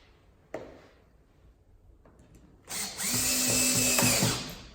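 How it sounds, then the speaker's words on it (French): Power drill driving a screw into the leg of a dog bed: a couple of soft knocks, then the drill whirs up loudly at close range and runs for about two seconds. "Je visse une seule vis."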